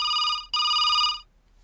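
A telephone bell rings loud and close in two electronic bursts with a short gap between them, then stops. No voices are heard.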